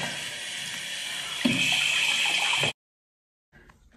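Tap water runs steadily into a sink for a few seconds to wet a makeup brush, close and loud with a brief splash partway through, then cuts off to silence before faint handling noise.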